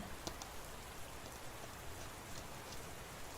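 Rain falls steadily on an umbrella during a walk in India, a faint, even patter with a few scattered sharper drops and no talk.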